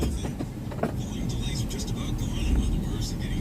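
Inside a car driving on roads in Manassas, Virginia, a steady low road rumble and tyre noise carry on continuously, with soft, faint sounds over the top.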